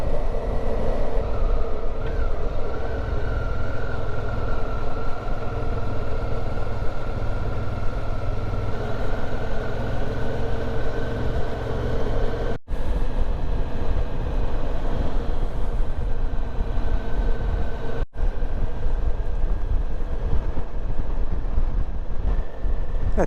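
Motorcycle riding along the seafront road at Mojacar Playa in Andalusia, giving a steady loud engine drone and road roar with heavy wind buffeting the microphone throughout, unbroken apart from two brief dropouts.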